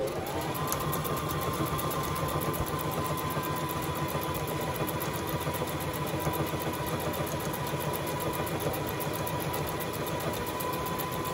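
A domestic sewing machine runs stitch number 9 on fabric, giving off a steady, rapid mechanical whirring with a fine regular pulse that continues unbroken from start to end, with no voices.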